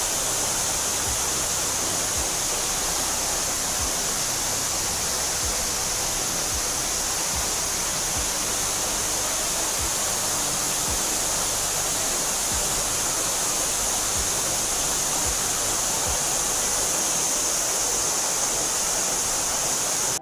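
Waterfall roars as a constant, loud, broadband rush of falling water with no pauses, heard alone without voices.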